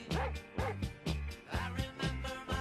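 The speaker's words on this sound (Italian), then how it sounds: "Il Bulldog inglese." An English bulldog gives five short, close barks in a loose, even rhythm, each a brief gruff yap with a slight whimpering edge, loud and alone.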